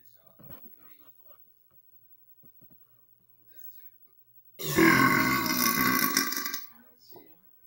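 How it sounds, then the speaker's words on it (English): A long, loud belch from a man after eating saltines, lasting about two seconds, with faint scattered sounds and soft murmurs before it and a short trailing sound after. "I Love those monster burps."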